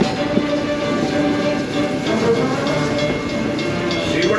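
The Walt Disney World Railroad train at Magic Kingdom runs with a steady rumbling roll and faint rhythmic wheel clatter, continuous and fairly close, with no talking.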